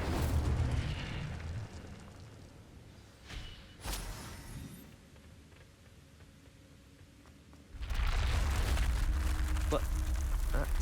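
The Incendio fire spell cast in Hogwarts Legacy, a sudden whooshing burst that flares up loud, with rumbling fiery bursts before and after, then a quieter gap and a renewed roaring swell.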